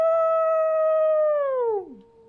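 A person imitates a wolf howl in one long, loud, steady tone that bends downward and fades at the end, close and alone.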